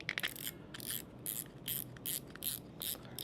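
A serviced spinning fishing reel is cranked by hand, giving a steady run of close, crisp ratcheting clicks in regular bursts, with no talking.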